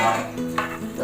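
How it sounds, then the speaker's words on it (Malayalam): Ghee rice being stirred in a frying pan, a brief burst of sizzle with scraping stir sounds close up, plus a faint clink of utensil. "ഇളക്കി കൊടുക്കാം."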